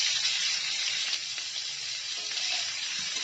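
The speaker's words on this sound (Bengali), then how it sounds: "এখন এই করলা আর আলুটাকে খুব সুন্দর করে ভেজে নিতে হবে।" Bitter gourd and potato pieces coated in salt and turmeric fry on a high flame, giving a steady, loud, close sizzle and hiss with faint stirring scrapes beneath, no voices.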